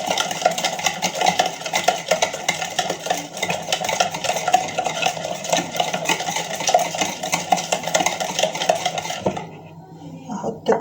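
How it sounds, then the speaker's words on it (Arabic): Eggs and sugar whisked together in a bowl for a custard cake: a rapid, steady metallic clatter of whisk against bowl runs close and loud for about nine seconds, then stops. "حطيت البيض والسكر، كوبايه الا ربع سكر و3 بيضات. هضربهم كويس مع بعضينا كده"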